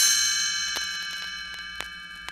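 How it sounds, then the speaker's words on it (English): Bright chimes ring out as a page-turn signal, several clear metallic dings and clangs over a sustained shimmering tone, close and fairly soft, with no voices. "You will know it is time to turn the page when you hear the chimes ring like this."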